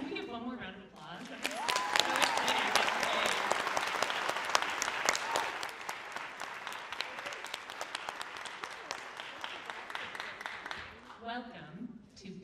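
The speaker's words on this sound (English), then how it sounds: "can we give one more round of applause?" Theater audience at a Pittsburgh Public Theater Shakespeare monologue and scene competition showcase breaks into sustained, dense applause lasting around ten seconds, with brief talk before and after.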